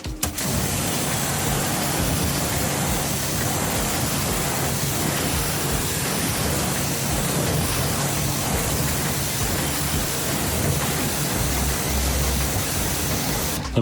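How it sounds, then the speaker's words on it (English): Steady, close water spray rinsing a Volkswagen Transporter wheel during a deep wheel clean, a continuous broadband hiss running unbroken for the whole stretch with no talk. "and then give it a nice rinse."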